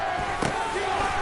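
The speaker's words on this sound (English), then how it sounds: "Can the crowd help them one more time?" A stadium crowd at an NFL Philadelphia Eagles game roars in a dense, sustained wash of noise on a tense fourth down, with a brief thump near the middle.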